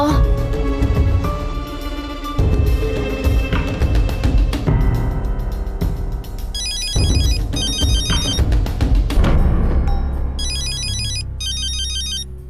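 A phone ringtone trills in repeated electronic bursts over loud music and a voice in an Urdu-dubbed drama, the rings clear and high-pitched near the middle and end.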